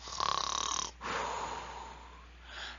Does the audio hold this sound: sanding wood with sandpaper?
no